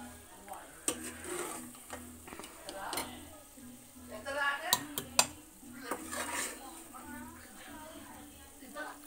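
Fried masala scraped and stirred into boiled chickpeas for chole, with repeated clinks and scrapes of a spoon against a metal pot, under a steady low hum and occasional background voices.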